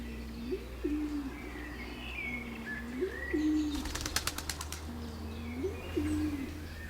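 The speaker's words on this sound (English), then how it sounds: "There are more laurel pigeons here than in all the other islands put together." Laurel pigeons on La Palma in the Canary Islands give three soft, low, rising coos at an even pace, with a brief burst of wing flapping partway through.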